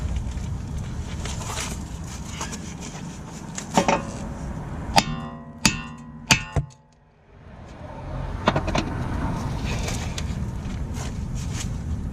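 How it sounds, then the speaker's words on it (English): A broken wheel lug stud is hammered out of a vehicle hub: about five sharp metallic strikes in quick succession, close and loud, with a short near-silence after them and steady background noise before and after. "So when I bang it out, it should pop and then fall out."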